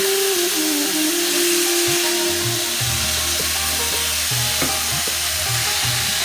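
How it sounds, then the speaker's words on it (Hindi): Chicken frying with spices in a pan for shami kabab, a loud, continuous hiss of frying with a low hum and occasional scraping stirs underneath, no talking. "और मैं चिकन को स्पाइसेस के साथ अब थोड़ा सा फ्राई करूँगी"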